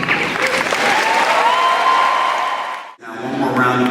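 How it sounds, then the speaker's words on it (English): Graduation ceremony audience at a community high school applauding loudly and steadily, a dense wash of clapping that cuts off briefly near the end, then resumes more faintly. "Now one more round of applause."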